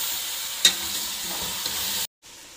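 Mutton fries with ground garlic, ginger and green chili paste in a pan, a steady close sizzle with a stirring scrape partway through before the sound cuts off.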